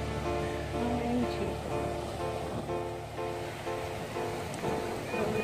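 Sea waves washing onto the shore in Haifa, a continuous, fairly loud rushing surf that swells and eases, with faint tonal background sounds mixed in.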